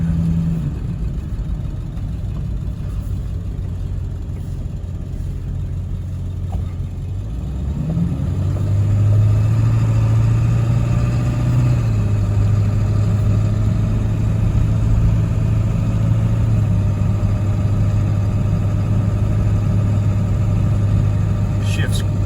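A Ford Excursion 4x4 with a 7.3 diesel engine drones steadily while driving, its low engine note rising and holding after a few seconds, with someone talking over it throughout.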